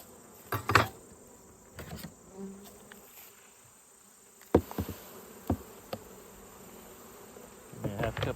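A faint, steady hum of buzzing honey bees runs throughout a hive mite check, broken by a few knocks and handling thumps.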